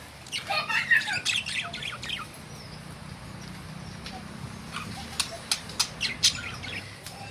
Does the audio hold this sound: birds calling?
yes